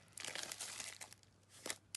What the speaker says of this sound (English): this is a brand new package. I'm going to open up this baby